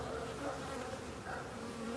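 Honey bees hum steadily around open hive boxes while a beekeeper prepares splits, a continuous close buzzing swarm drone that holds even throughout.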